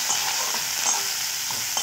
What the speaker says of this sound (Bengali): পেঁয়াজগুলোকে একটু নাড়াচাড়া করে নেব।